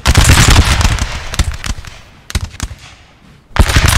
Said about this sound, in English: the Swedes open fire